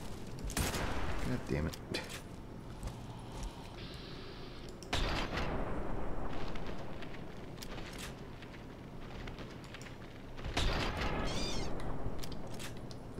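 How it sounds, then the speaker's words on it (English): Bursts of gunfire slowed down in Fallout New Vegas slow-motion mode, heavy smeared blasts in several loud clusters with quieter gaps, and a man curses briefly. "This gun does not work well in slow-mo."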